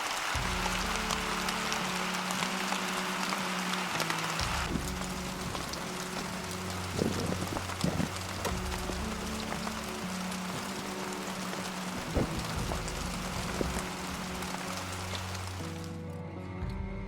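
Heavy monsoon rain pours down around a Tahoe parked under an awning, a constant dense patter with low droning tones and occasional knocks running beneath it.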